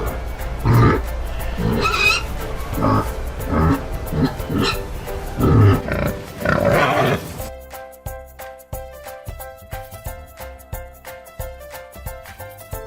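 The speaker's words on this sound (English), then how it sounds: "Pig." Pig oinking and grunting in bursts over about seven seconds, loud and close, then giving way to bright background music.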